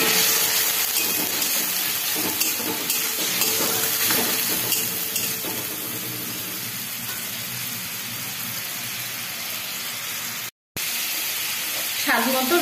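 Onion and ginger-garlic paste frying in a pan for a palm-kernel malai curry, a continuous sizzling hiss with clinks of stirring, a voice speaking over it at times.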